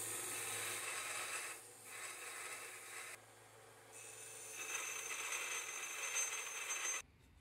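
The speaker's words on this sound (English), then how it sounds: "I'm gonna be cleaning up those spikes using the Vivor belt sander." A belt sander cleans up four cast aluminum spikes, giving a steady broadband grinding hiss that swells and dips as the parts are pressed on, fairly quiet, then cuts off abruptly at the end.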